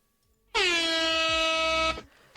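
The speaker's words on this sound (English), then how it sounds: "an air horn" A single loud, sustained air horn blast from a Minecraft mod rings out for about a second and a half, then cuts off into quiet.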